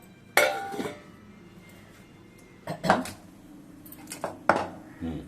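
A pan of brinjal and mango fry is tossed up and down, making three separate close clattering bursts of metal and food with quiet gaps between them and no talk.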